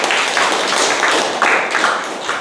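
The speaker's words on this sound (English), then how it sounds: "So big round of applause for him." Audience applause at a Toastmasters club meeting, a steady round of many hands clapping with no break from start to finish, close and fairly loud.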